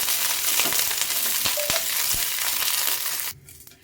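Andhra-style chutney mixed with a few drops of oil, a steady close scraping and stirring with crackly sizzle throughout, a few sharp taps along the way, cutting off abruptly near the end.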